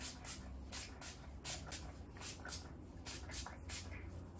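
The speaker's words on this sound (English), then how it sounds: "If there's no lifting, I'll just spray more on." Quiet repeated bursts of a spray bottle of lace release liquid on a hair system, about a dozen short hissing puffs in an uneven rhythm, close by with no talking.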